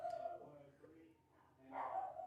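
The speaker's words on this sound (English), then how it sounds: "this dog never shuts up" A dog yips and whimpers in a couple of short bursts, fairly faint and mixed with a person's voice.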